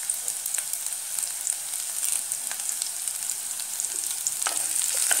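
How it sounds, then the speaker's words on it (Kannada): Onion and curry leaves frying in a pan for a Mangalorean-style kadle tondekai gasi, a steady close hiss of oil with occasional small pops throughout. "ಅದೇ ರೀತಿ ಸ್ವಲ್ಪ ಕರಿಬೇವು ಹಾಕಿ ಎಲ್ಲವನ್ನು ಫ್ರೈ ಮಾಡ್ಕೋಬೇಕು"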